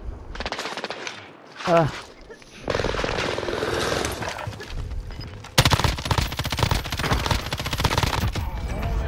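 Rapid automatic gunfire from a video game, loud bursts of machine-gun fire broken by short pauses, with a brief voiced exclamation in the middle.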